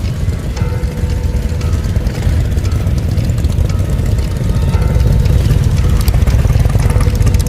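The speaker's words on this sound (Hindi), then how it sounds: "मोटरसाइकिल की आवाज आई।" A motorcycle engine drones loud and steady on a village road in a cartoon story, a rough continuous rumble that grows slightly stronger as it approaches.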